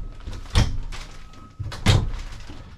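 Drawers in a toy hauler RV being slid open and shut, two distinct sharp knocking clunks about a second apart with quieter rattling between.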